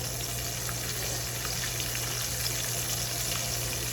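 Oysters frying in oil in a small skillet, a constant, crackling sizzle with scattered pops, close and steady and free of talk.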